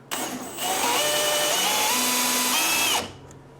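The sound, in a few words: drilling with a drill bit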